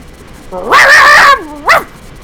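A person's voice imitating a dog, a drawn-out whining bark followed by a short yip, loud and close against a quiet background.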